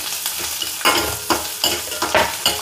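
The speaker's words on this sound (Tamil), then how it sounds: "இப்போ இதை வதக்கிக்கலாம்." Curry leaves, green chilli and onion sautéing in a hot pan for a chicken gravy, with close, rhythmic stirring strokes about every half second over a constant loud sizzle, no voices.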